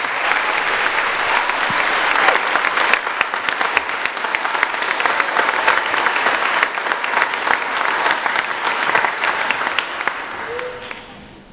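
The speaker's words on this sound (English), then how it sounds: "let's give our seniors a round of applause this evening" An audience applauds the seniors at a Sussex Tech school concert, loud, steady clapping that fills the hall for about eleven seconds before tapering off at the end.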